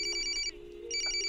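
A telephone bell rings in two loud electronic bursts with a short gap between them, the tone steady and close, with no talk over it.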